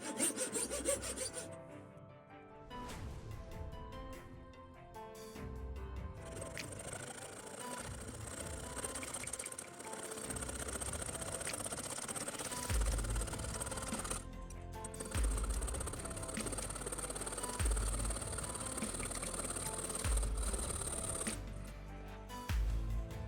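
Hand fret saw cutting through a plastic vacuum cleaner brush part held in a clamp, making continuous rasping strokes at a steady rhythm, fairly quiet and close.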